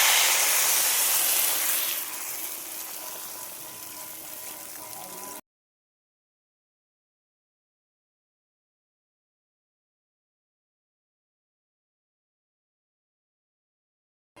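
Water splashes into a pan of koi and jiol fish curry with raw banana, cooked without spices, as a loud, steady hissing rush for about five seconds that eases slightly before cutting off into silence.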